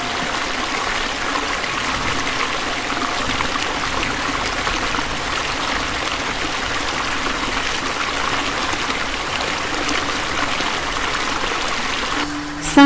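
Dark, cold water seeping in under a door in a spooky cartoon scene, heard as a steady trickling, streaming flow that runs evenly throughout, with a brief louder burst at the very end.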